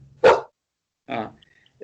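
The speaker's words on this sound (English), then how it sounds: "Puppy dog." A puppy barks twice, two sharp, fairly loud yaps about a second apart against a quiet background, with the start of a third at the very end.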